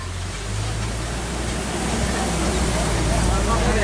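A waterfall on a Disney World safari river rushes in a steady, dense roar of falling water, loud and continuous, with faint crowd babble beneath.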